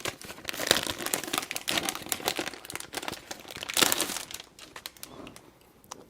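A paper pad from a card-making kit is handled, giving dense crinkling and rustling of paper sheets, close and fairly loud, then fading to lighter rustles, with no talk.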